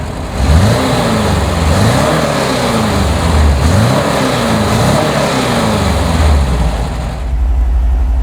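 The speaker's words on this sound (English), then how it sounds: "So how about I fire it up for you? And with the fuel injection, it's nice. You don't have to pump the gas. Just hit the key, and bam." A fuel-injected 1976 Porsche 914 Targa engine catches and revs, rising and falling in repeated throttle blips before settling toward a steady idle, loud and close with no voices.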